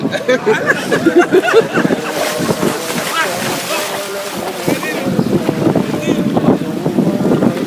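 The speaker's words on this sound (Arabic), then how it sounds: "يلا يا مناع، ايش رايك في هبات الريح؟" Blustery wind buffets the microphone on a boat trip to Farasan, over boat engine rumble and sloshing sea, with voices talking intermittently throughout.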